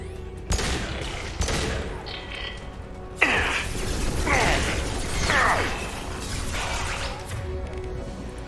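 A hacked turret in the sci-fi game Mass Effect 2, heard as clanking, ratcheting mechanical bursts with rising whirring sweeps, several loud metallic hits spaced a second or so apart.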